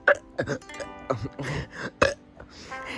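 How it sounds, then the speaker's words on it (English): A voice makes several short belching, burp-like noises in quick succession, close and fairly loud, with uneven gaps between them. "I'm gonna burp."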